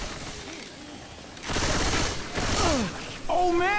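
Rapid bursts of automatic gunfire in the zombie shooter game Left 4 Dead 2, loud and close, with a brief voice near the end.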